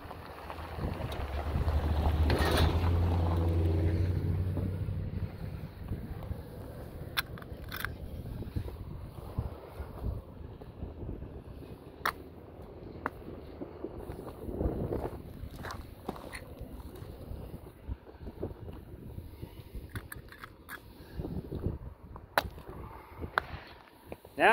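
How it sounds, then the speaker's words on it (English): Outdoor wind rumbles and buffets the microphone, loudest in a long gust near the start, then eases into a steady low rush broken by scattered clicks, taps and footstep-like knocks close by. "Now the wind will not be blowing these away."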